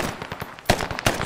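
Bursts of video game gunfire aimed at a jeep crackle in quick, uneven volleys, loud and close, with a heavier boom near the end and no speech over them.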